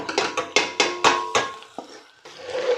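A utensil stirs cooked pasta through keema mince in a pan, scraping and clanking against the metal in a run of sharp, close knocks, then a brief pause before softer, steady mixing resumes.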